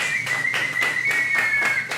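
An audience at a live podcast taping claps in a quick, even rhythm, sharp close claps repeating several times a second over a thin tonal whistle, with no voices.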